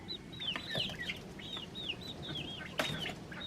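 Month-old ducklings calling in an indoor pen, a rapid run of high, thin peeping chirps repeated close by with little pause.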